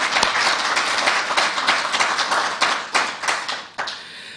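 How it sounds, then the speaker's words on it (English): An audience at a university's inaugural professorial lecture gives a warm round of applause for a professor, a full burst of many hands clapping that thins toward the end, with a few distinct claps standing out. "Please give Prof. Mago a warm round of applause."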